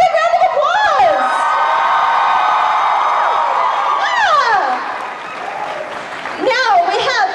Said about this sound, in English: Yeah, give her a big round of applause.